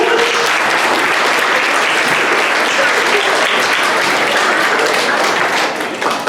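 At a school awards assembly, a crowd gives students a big, loud round of applause as they leave the stage, a steady wash of close clapping that fades slightly at the very end.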